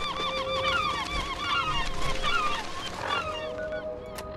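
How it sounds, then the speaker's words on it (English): Seagulls in a Fallout video game give repeated loud, squawking calls that overlap in quick bursts over a low ambient hum, with a faint steady tone running underneath. "Seagulls are loud as hell."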